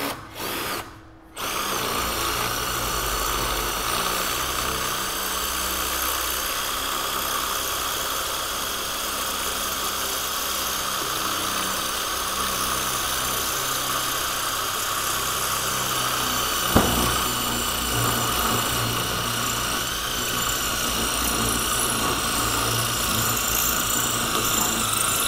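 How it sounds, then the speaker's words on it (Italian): A Ribimex 18V cordless impact driver, rated 150 Nm and fitted with a hex-shank masonry bit, drills into a concrete brick with a loud, steady, close whining grind that runs continuously for over twenty seconds after a brief start. "proveremo a forare questo mattone in cemento"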